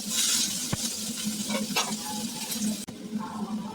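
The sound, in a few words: onions frying in oil in a kadai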